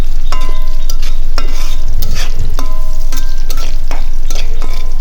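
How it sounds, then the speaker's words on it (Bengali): Onions, chillies and garlic fry loudly in a pan, a close, continuous crackling sizzle broken by repeated scraping strokes of a stirring spoon. "দেখুন, আমি পেঁয়াজ মরিচটা ভালো করে ভাজতেছি।"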